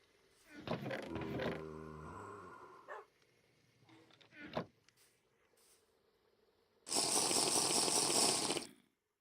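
Water in a video game, a steady bright rushing like a running tap that lasts about two seconds near the end, louder than the scattered game noises and barking-like sounds before it.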